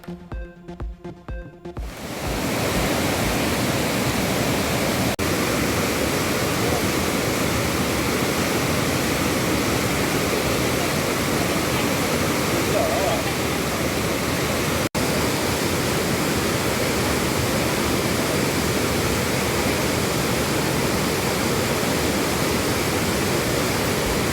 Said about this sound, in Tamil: திருப்பரப்பு அருவியில் வெள்ளப்பெருக்கு ஏற்பட்டதால் சுற்றுலா பயணிகள் குளிக்க தடை.